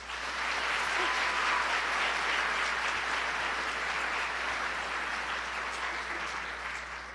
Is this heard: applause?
yes